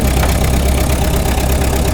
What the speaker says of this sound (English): this one's a bit noisier than most because we have a slight exhaust leak, but we'll get her up to about 10